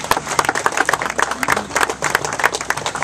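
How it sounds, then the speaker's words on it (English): A crowd applauds the vice president and general manager of Dorney Park at a 2012 ride announcement event, with dense, steady clapping filling the whole clip at close range. "Everyone, round of applause for Mr. Jason McClure."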